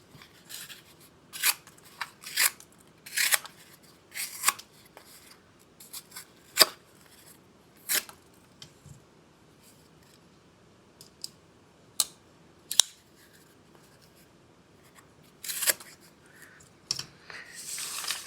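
Benchmade Freek and Ritter RSK folding knives slice through cardboard, producing scattered sharp rasping cuts and clicks in short bursts separated by quiet gaps, close and dry with no talking.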